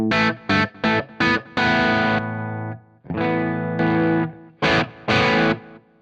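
Heavily distorted electric guitar through a Gizmo Audio SB drive pedal plays a few short choppy chords, then longer sustained ringing chords, loud and close with no voices.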